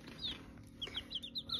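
Young chicks being given water peep and chirp in a rapid, uneven series of short high calls, faint and close, over a quiet low background.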